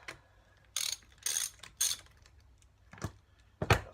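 A ratchet undoes the timing cover nut on a BSA A70L motorcycle engine: several separate loud bursts of rapid metallic clicking with short quiet gaps, close up and with no talking.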